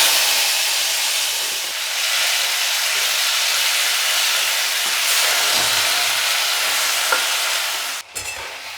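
Chopped tomatoes hit hot oil already seasoned with dried red chillies, bay leaf and five-spice, giving a loud, steady, close hiss of frying that fades sharply near the end.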